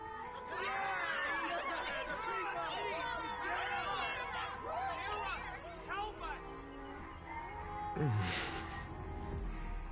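A crowd in the Honkai: Star Rail video game chatters in a dense, lively babble of many overlapping voices, with a few brief laughs and exclamations, fairly close and continuous.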